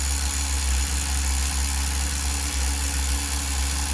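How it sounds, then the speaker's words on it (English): A Tamiya TGS-R nitro RC car engine runs steadily through break-in, a loud, constant buzzing drone with a deep low hum that holds unbroken throughout, with no voices. "I could break in new engines all day long."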